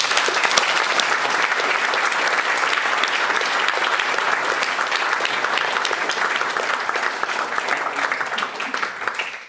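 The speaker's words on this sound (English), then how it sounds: "I would ask you to give them a round of applause" A large audience at a software developer conference keynote claps loudly and continuously for several seconds, the dense applause tapering off at the end.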